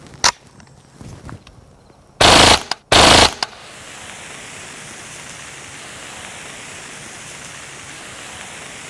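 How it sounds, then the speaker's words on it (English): Two loud bursts of Kriss Vektor .45 ACP gunfire aimed at a stainless steel beer keg, each a short, dense rattle of shots about a second long, preceded by a few faint pops and followed by steady outdoor wind hiss. "the 45 ACP wasn't quite up to the job of piercing through that stainless steel keg"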